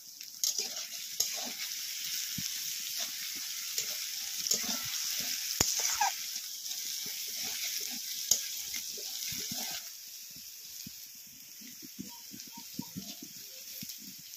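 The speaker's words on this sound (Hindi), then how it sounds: "प्याज आ मसलाटा जो अदा रसुण पेस्ट भल के भाजी गलानी" Onion, masala and ginger-garlic paste frying in a pan for egg curry, a steady close sizzle with intermittent stirring scrapes and clicks throughout.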